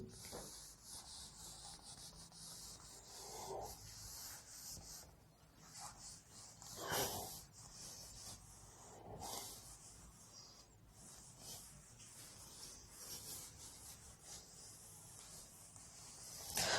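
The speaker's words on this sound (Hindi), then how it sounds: "मैं तो देखो कपड़े से बोर्ड साफ करता हूँ" A cotton cloth wipes a classroom whiteboard in a long, steady rubbing hiss with uneven swipes and occasional louder strokes, heard quietly and without speech.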